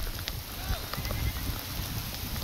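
Heavy rain pours down in a steady, close hiss of drops drumming on surfaces, with faint voices mixed in.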